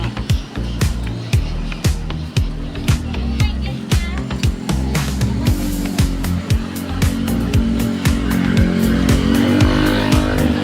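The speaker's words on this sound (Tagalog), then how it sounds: "Yan na mga jeep." Jeepneys and other traffic rumble past on a busy street near Galas Market in Quezon City, Philippines, engines loud and close with repeated passing surges and no clear talking.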